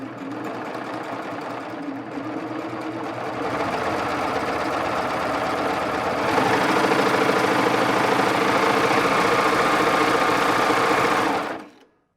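A Baby Lock serger stitches elastic onto Lycra fabric in one continuous run, its steady, fast mechanical whir building a little in speed after a few seconds before stopping abruptly near the end.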